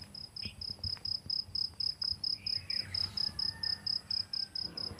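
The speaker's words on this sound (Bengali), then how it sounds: "হালকা ঝিঝি পোকার আওয়াজ যদি আমি চুপ করি তাহলে তোমরা শুনতে পাবে" Crickets at a quiet resort in the Dooars chirp in a steady rapid pulsing trill, close and clear, with faint distant ambient noise and a couple of soft bird notes in the background.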